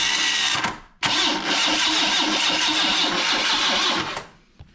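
Car engine cranks on the starter after a head gasket job, catches and runs at a loud, steady idle near the microphone, then cuts out at the end.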